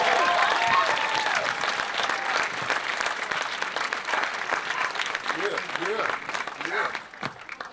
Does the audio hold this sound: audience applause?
yes